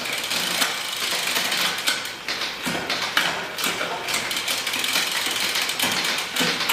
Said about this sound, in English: Just make sure that each single shift corresponds to a single sprocket on the cassette.